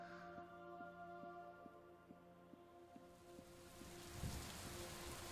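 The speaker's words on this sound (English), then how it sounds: "Oh, it's raining." Rain begins falling in the puzzle game Superliminal, a soft hiss that swells into steady patter over a quiet, repeating musical tone.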